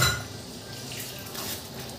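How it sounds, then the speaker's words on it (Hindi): Corn kernels go into a pot of hot water on the stove, a brief close watery slosh and splash with faint metallic pot clatter, no voices. "कॉर्न को गर्म पानी में डाल देंगे।"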